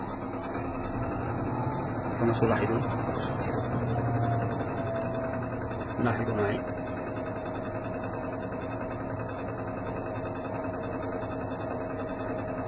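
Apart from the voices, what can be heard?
LG washing machine motor spinning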